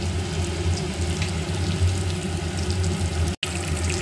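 Nigella seeds crackle and sizzle in hot mustard oil in a pan, a steady close frying hiss lasting throughout with a brief cut near the end, no voices.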